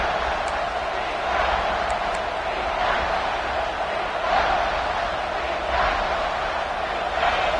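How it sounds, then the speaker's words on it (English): A stadium crowd at a college football game roars steadily, cheering on the defense during a red-zone stand. The broad crowd noise swells and eases in waves throughout, with no clear talk above it. "The crowd getting behind this defense as they try to get a stop in the red zone."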